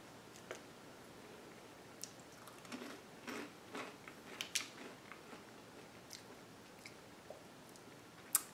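Someone chews crunchy salted caramel puffs up close, a soft sequence of irregular crisp crunches and clicks, quiet and with no talking.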